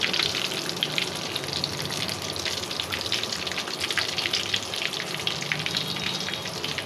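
Eggplant pieces frying in oil in a pan, a steady dense sizzle and crackle running without pause, close and moderately loud, with no voices.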